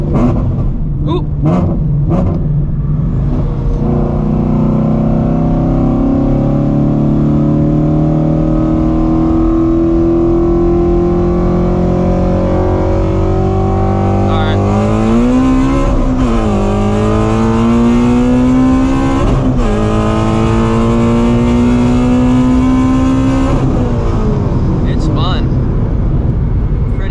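A supercharged Ford Shelby GT350 accelerates hard through the gears, loud engine and supercharger whine climbing in pitch, dropping at each shift and rising again, heard from inside the car with people talking over it.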